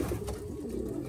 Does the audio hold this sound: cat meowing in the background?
no